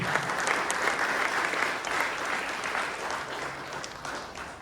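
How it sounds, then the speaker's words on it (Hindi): Congregation at a religious seminar clapping together for the Lord, sustained dense applause from many hands that holds steady and tapers slightly toward the end. "आप प्रभु के लिए ताली बजाइए।"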